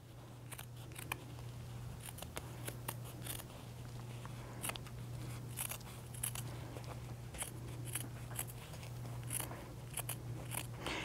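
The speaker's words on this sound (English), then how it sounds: "we're gonna cut that excess fabric off" Scissors snip away excess fabric and seam allowance while a knot bag is sewn, giving a long series of quiet, crisp cuts at an uneven pace, close to the microphone over a steady low hum, with no voices.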